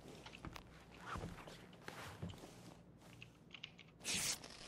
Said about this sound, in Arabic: اسمع صوت خطوة ترى